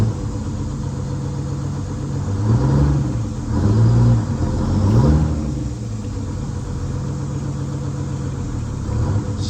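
Antique bus engine revving with the clutch slipping, a steady low rumble that swells in two throttle surges around the middle before settling back to a rough idle, close and loud.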